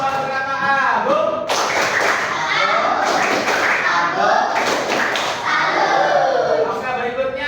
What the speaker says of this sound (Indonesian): Tepuk salut buat Kakak Agung